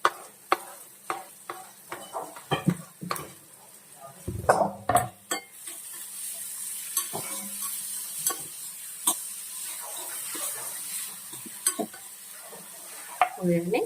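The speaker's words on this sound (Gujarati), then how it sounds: "હવે એમાં આપણે સમારેલી કોબીજ એડ કરીશું." Chopped cabbage stir-fried in a pan for homemade wheat flour Maggi, with a spatula scraping and tapping in irregular knocks over a steady soft sizzle, close by.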